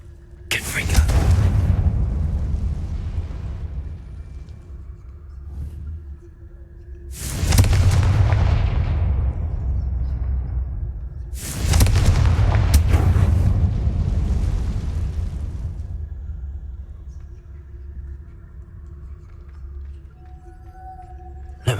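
Confringo fire spells from Hogwarts Legacy blast in heavy, booming explosions, three big bursts spaced several seconds apart. Each ends in a long rumbling decay over low game ambience, with some faint voices around.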